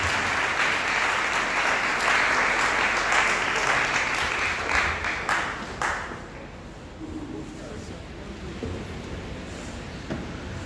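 A church congregation applauds loudly during a Sunday worship and praise service, a dense sustained clapping that fades down into softer, scattered claps and room murmur.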